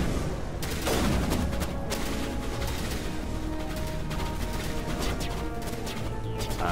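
Objects blown apart in Mass Effect combat, with dense, continuous bursts of gunfire-like crashes and blasts layered over a steady loud rumble throughout.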